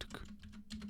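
Rapid clicking of keys on a computer keyboard, several quick taps close together at a steady, moderate level.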